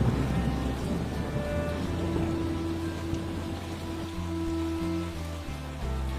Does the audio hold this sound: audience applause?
no